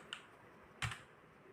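Two separate keystrokes on a computer keyboard during billing entry, a light click early on and a louder, sharper press of the Enter key near the end, close and otherwise quiet.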